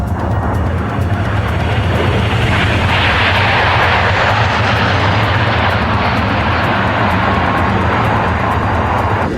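A loud, steady roar of the V150 high-speed train rushing past at record speed, about 568 km/h, continuous and intense like a jet, with no voices.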